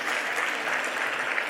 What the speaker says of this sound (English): You can clap them if you wish.